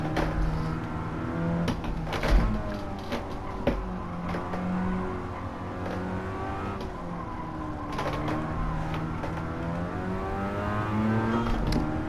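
Mazda RX-7 FC rotary engine in Gran Turismo 7 played on a sim wheel, revving under heavy throttle during a slide, with rising and falling pitch, tire squeal and mechanical creaks throughout.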